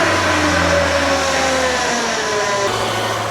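A Jeep Grand Cherokee WJ with the 4.7L V8 runs steadily at close range after a radiator and thermostat job, its low engine drone holding even with a slight drop in pitch near the end; no one speaks.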